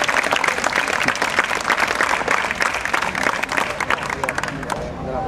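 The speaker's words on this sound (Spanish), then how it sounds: "Un aplausito, un aplausito." Applause from an assembly of protesters in a Spanish indignados movement meeting, after a proposal on education is read out: dense, steady clapping across the whole stretch, fairly loud and close, with crowd murmur underneath, easing slightly just before the end.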